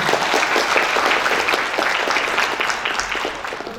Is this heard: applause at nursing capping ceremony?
yes